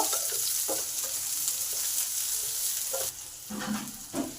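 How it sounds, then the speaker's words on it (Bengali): Chopped onion frying in a pan of oil with cumin, chili and garlic, a continuous close sizzle broken by a few scraping stirs toward the end, with no voices. "এবার পেঁয়াজটাকে একটু ভালো করে ভেজে নেব"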